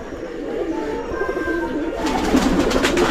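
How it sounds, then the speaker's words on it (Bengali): Pigeons coo softly in soft repeated calls against a steady background hum, getting a little busier and brighter toward the end. "এই সবগুলো কবুতর আছে আমার"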